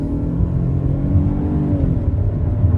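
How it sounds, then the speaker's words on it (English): Ford Bronco Sport with a 1.5-liter turbocharged EcoBoost inline engine accelerating out of a corner, a steady loud engine hum and rising rev heard from inside the cabin, with no talking. "So taking the corner here and just accelerating a little bit here."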